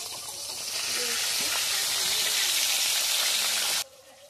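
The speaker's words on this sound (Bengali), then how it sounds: "তেলটা গরম হয়ে গেছে, মাছটা ভেজে নিচ্ছি" River bhola fish frying in hot oil makes a loud, continuous hissing sizzle that holds steady for several seconds and then cuts off abruptly.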